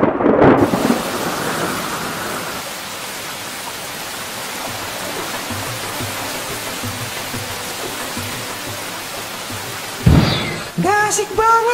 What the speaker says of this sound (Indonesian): Eh, malah hujan.